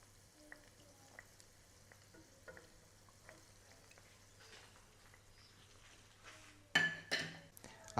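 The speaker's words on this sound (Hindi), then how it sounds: "आहिस्ता आहिस्ता समोसे पलट देते हैं।" Street-style Pakistani aloo samosas fry in oil, a soft steady sizzle with scattered light ticks, then louder scraping and clinking of a utensil near the end as they are turned.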